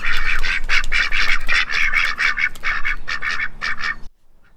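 Several Indian Runner ducks quack loudly and close by in a rapid, overlapping series of calls, stopping abruptly near the end.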